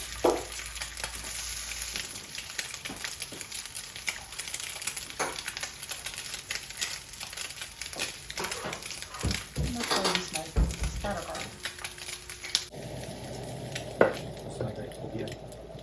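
Food sizzles and spatters in a hot pan, a steady crackling hiss with occasional pops and utensil clinks.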